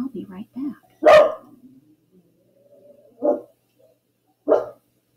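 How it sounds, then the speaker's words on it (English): Dogs bark outdoors in several sharp, separate barks at a moderate distance, with a soft whimper between them and a person's voice briefly at the start. "there are just these dogs outside barking it up."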